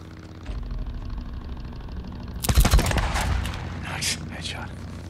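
A single sharp gunshot headshot in Days Gone cracks loud and near over a low engine-like hum, followed by fading echoes and a couple of fainter distant pops.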